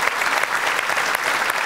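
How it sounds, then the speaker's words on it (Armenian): An audience claps steadily on a television show's stage, a dense, even burst of applause that fills the whole short stretch with no speech. "մի հատ ծափարեք"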